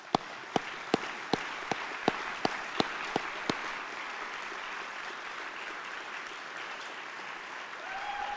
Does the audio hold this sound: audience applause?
yes